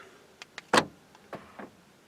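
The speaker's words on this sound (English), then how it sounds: "Let's lock the doors." Power door locks on a 2007 Honda CR-V clicking shut, a few quiet ticks followed by one sharp, louder actuator clunk and a couple of softer trailing clicks, close and isolated.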